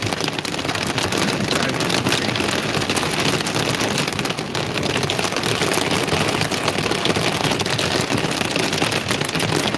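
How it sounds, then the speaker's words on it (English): Hail pounding a highway during a Central Texas storm, a dense, loud, steady clatter of stones striking and bouncing off pavement for the whole stretch, with no voices over it. "All those loud sounds is hail."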